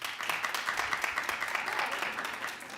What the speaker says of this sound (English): clap if you're gonna watch